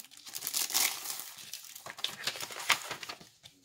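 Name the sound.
folding pre-scored paper card bases in half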